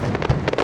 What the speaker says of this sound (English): I've been watching this firework for many, many years.